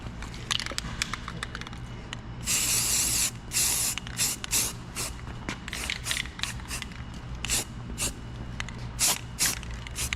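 Spray paint hissing in short repeated bursts onto a Parker vice being rebuilt after fire damage, one longer blast followed by many quick sprays close by over a low background hum.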